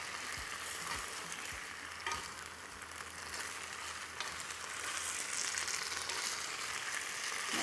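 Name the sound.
stir-fry sizzling in a pan over high heat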